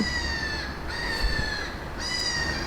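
A seagull calls outdoors, its harsh, repeated, crow-like cries coming in three drawn-out bursts at moderate distance over a low background rumble.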